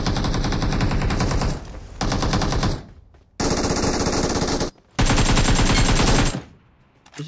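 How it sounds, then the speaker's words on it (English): Rapid automatic gunfire in a video game, loud and close, coming in several long sustained bursts separated by short gaps of near silence. "What's he shooting at though?"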